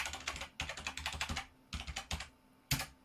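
Someone types a new admin password on a computer keyboard while setting up Pi-hole on a Raspberry Pi, producing close, crisp bursts of rapid keystrokes separated by short pauses, with a final sharp cluster at the end.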